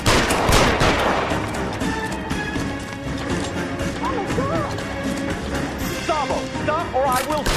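Gunshots in the video game L.A. Noire crack out amid crashing impacts and scuffling, loud and close, as voices talk and shout over the shooting.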